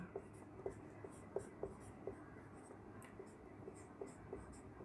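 Chalk or marker taps and short strokes on a board while a hydrocarbon formula is written, a faint, irregular series of small knocks over low room noise, with no speech.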